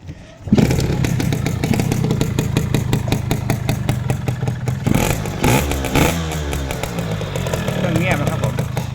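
A Yamaha RXZ motorcycle engine kicks into life and settles into a loud, close two-stroke idle with a rapid buzzing rhythm and brief blips of revving, with a voice speaking over it.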